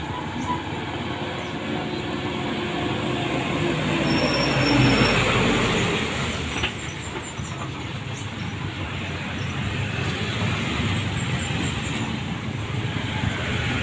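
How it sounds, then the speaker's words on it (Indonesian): A railway shunter locomotive rumbles steadily close by, heavy wheels grinding and faintly squealing on the track, the roar swelling midway and then settling. "Oke, ada truk shunter."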